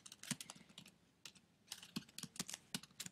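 Quiet, close clicks of a computer keyboard come in irregular bursts as a search is typed, with a short pause midway.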